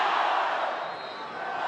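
Fans at Joan C. Edwards Stadium during a Marshall Thundering Herd football game chant "We Are Marshall" together, a loud, sustained crowd roar that fills the whole moment.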